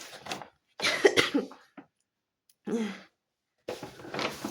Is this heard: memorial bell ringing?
no